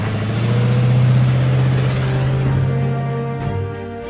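An open-top Marlin Roadster's engine hums steadily and fairly loud, a low throbbing drone that holds even throughout with a slight swell partway before easing off.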